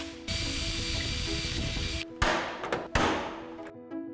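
A power drill whirs steadily for about two seconds while boring holes into a Slingshot roof unit, then short bursts and clicks follow as the bit stops and restarts.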